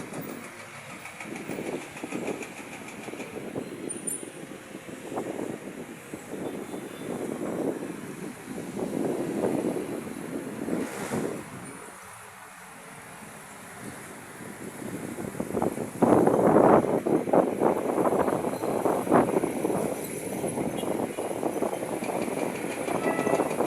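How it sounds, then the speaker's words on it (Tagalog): Strong wind gusting over open rice paddies near a field boundary, a steady roaring rush that rises in louder bursts toward the end, with no talk. "Lakas oh. Hangin oh."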